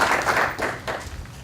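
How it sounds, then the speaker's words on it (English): An audience at a League of Women Voters meeting applauds in a short burst of clapping. It comes in a few uneven swells and then fades out within about a second and a half. "Please give them a round of applause"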